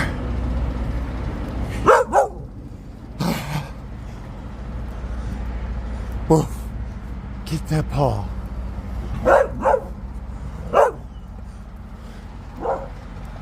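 A dog barks in short, sharp bursts while dashing about during a bout of zoomies at home, several loud barks spread across the clip with a person talking playfully to it in between.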